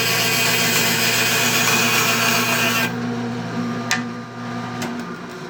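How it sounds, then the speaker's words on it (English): A bandsaw runs and cuts a dyed Spectraply plywood pen blank, a steady loud motor hum with a hissing cutting rasp that eases off partway through as the blade keeps spinning. "I'm going to turn on the bandsaw here."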